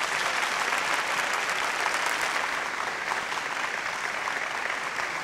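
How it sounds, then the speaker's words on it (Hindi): A studio audience at a televised Bhojpuri singing competition breaks into loud, sustained applause, a thick, steady roar of many hands clapping close and uninterrupted throughout. "ममता रावत खातिर जोरदार ताली बजाई"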